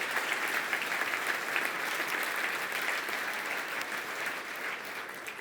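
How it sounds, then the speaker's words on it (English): A roomful of people at an awards ceremony clapping continuously, a thick, even wash of applause that holds steady and tapers only slightly at the end. "can we have a round of applause for our Analytical Insights category?"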